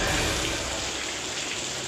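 Heavy rain mixed with volcanic ash falls steadily at a monitoring post near an erupting Semeru volcano, a dense, continuous hiss and patter heard briefly and alone.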